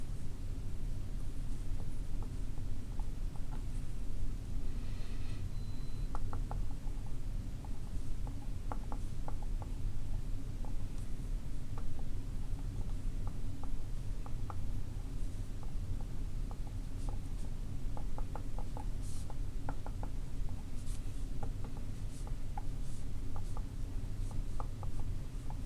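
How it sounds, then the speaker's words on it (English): Chalk or marker scratching across a board during a lecture on lenses, a steady run of short strokes and taps close to the mic, no talking over it. "let me just write this guy down"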